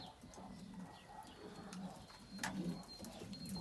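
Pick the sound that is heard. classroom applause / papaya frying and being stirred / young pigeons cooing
young pigeons cooing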